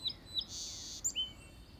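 Faint bird calls in the distance: a few quick chirps and a brief buzzy trill over low background rumble.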